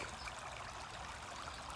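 Faint, continuous rush of river water flowing past at a crossing point, an even hiss without pauses or voices.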